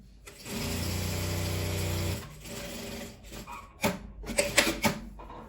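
A sewing machine topstitching fabric at presser-foot width for a vertical school pencil case, running in a steady whir for about two seconds, followed by clicks and handling noises.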